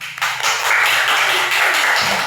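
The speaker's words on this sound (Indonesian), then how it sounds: "kita kasih aplaus dulu" A classroom of children applauds a student who came to the front, a dense burst of clapping that starts abruptly and continues loudly to the end.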